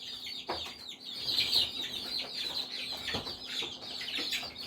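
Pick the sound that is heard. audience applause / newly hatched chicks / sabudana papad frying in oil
newly hatched chicks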